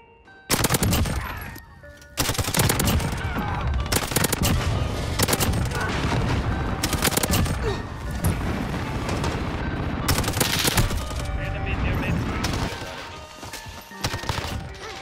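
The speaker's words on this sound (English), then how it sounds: "The PP-19 is amazing with a suppressor." A suppressed PP-19 submachine gun fires in Call of Duty: Modern Warfare gameplay, giving loud, dense bursts of rapid shots almost without pause, mixed with game effects and impacts.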